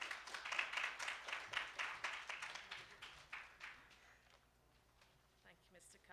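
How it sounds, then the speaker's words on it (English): Guests at an economic development fund report launch clap for a few seconds, a fairly close rhythmic patter that tapers off into quiet room noise, with a voice briefly present underneath. "Round of applause, colleagues."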